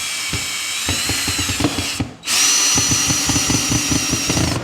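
Power drill driving a screw through a garage wall track into a stud, a close, loud whining motor under rapid rhythmic clicking, briefly stopping and then resuming for a second run.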